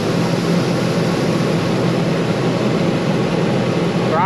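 Aircraft propeller engine running at a steady, loud, droning rumble up close, holding constant throughout with a slight change at the very end.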